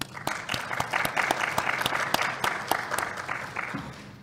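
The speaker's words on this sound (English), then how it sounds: "So a round of applause for them, please." Conference audience applauding panelists from Microchip, Meta and Microsoft at an industry tech event: a fairly sparse, moderate round of clapping with distinct individual claps, steady for about four seconds and then thinning toward the end.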